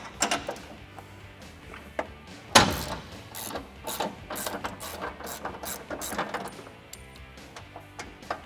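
A ratchet clicking as it removes nuts from studs on the front bumper of a 2009-2014 Ford F150, quiet close bursts of rapid ratcheting separated by brief pauses and a single sharper metallic clank.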